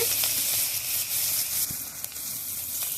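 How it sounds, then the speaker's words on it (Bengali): Chopped onion frying in hot oil, a bright continuous sizzle with soft crackles, close and fairly loud, heard alone without talk. "এই তেলের মধ্যে রান্নাটা করে নেব তো আমি পেঁয়াজ কুচি দিয়ে দিচ্ছি"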